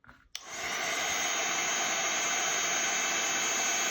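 A heat tool switches on with a click and blows a steady, loud, close whooshing roar, heating embossing powder on vellum, running continuously without talk.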